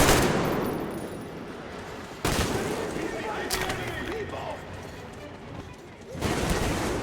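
Enemy gunfire rattles in the video game Metro Exodus, bursts of automatic shots and sharp cracks at mid distance with a sudden loud burst near the start and another near the end, amid muffled ambient noise.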